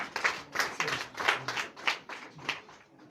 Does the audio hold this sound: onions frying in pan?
no